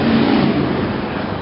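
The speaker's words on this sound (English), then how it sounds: "That was a motorcycle." A motorcycle passes on a city street, a loud mid-pitched engine drone that swells briefly, then fades slightly as it moves away.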